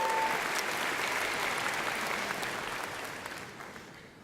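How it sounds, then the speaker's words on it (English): A commencement crowd gives sustained applause, with dense hand-clapping that fills the hall and slowly fades toward the end. "Please join me in a round of applause for our master's degree students"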